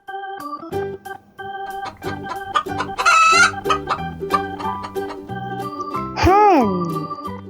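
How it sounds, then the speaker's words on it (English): A golden hen clucks in quick, close bursts of repeated calls, and a loud, drawn-out crowing call rises near the end. "Our next animal is a golden hen."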